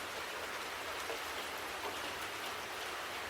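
Steady rain falls continuously in a broad, even hiss, with fine patter of drops on a surface and no voices.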